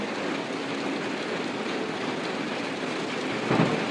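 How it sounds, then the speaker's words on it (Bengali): Heavy rain pours down steadily in a dense, even hiss that fills the whole stretch, with a brief low thump near the end. "প্রচণ্ড বৃষ্টি হচ্ছে এখন"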